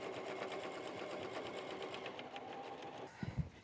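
A sewing machine stitching the other side of a small fabric kitchen mini mitt, a steady quiet whirring hum for about three seconds, followed by a couple of soft handling knocks.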